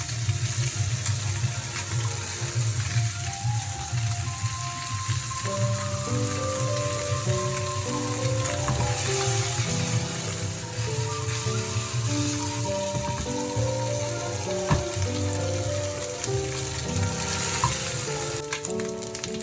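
Morola fish sizzling in oil after being flipped, a continuous dense frying hiss with a faint watery crackle, sustained at an even level and mixed with background music.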